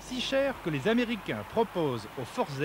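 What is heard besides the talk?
No everyday noises stand out.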